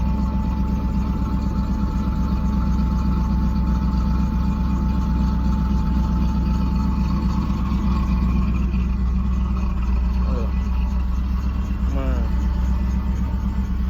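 A 1991 Chevrolet Camaro with a newly fitted exhaust idles after a cold start, giving a steady low rumble that stays constant and close throughout.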